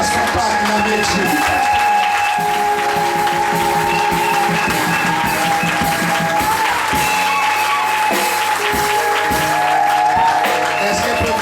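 Church congregation applauding and cheering loudly and continuously, a dense crowd roar filling the room with music or sustained voices underneath throughout.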